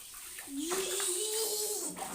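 A young girl is bathed, with water running and splashing close by as she speaks in a small high voice over the gentle wash.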